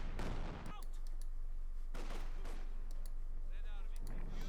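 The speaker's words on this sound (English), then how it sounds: "with a light machine gun on the way." Light machine gun fire in Company of Heroes 2, a World War II strategy game battle, with rapid bursts and distant explosions layered under steady game background noise and a commentator's voice.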